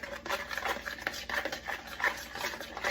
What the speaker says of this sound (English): I'm going to use a spoon just to kind of stir all the ingredients up